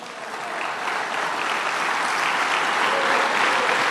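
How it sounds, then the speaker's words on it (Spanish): A church congregation claps in sustained, dense applause that swells slightly and stays loud and close throughout, with no speech over it. "Denle un aplauso al Señor."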